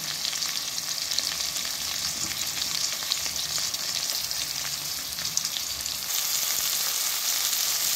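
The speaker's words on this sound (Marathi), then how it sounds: "आता यामध्ये टोमॅटो ॲड केले मी. हे छानसं परतून घ्यायचं आपल्याला." Tomatoes sauté in a pan for a potato curry with a constant, fairly loud sizzle and light stirring scrapes. The sound is unbroken and there is no talk.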